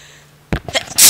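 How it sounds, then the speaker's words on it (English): A single loud, close human sneeze bursts out after a short quiet pause, with a sharp breathy onset and a hissing tail. "I gotta sneeze, though."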